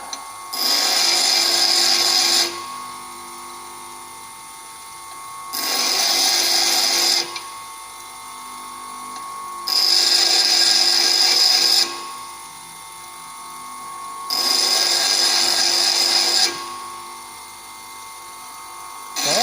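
A lathe cutting tool is ground on a sharpening wheel in four long passes, each a bright, loud grinding whine of a few seconds separated by quieter gaps where the motor hums on.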